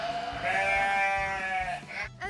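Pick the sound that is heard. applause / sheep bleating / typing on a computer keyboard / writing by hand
sheep bleating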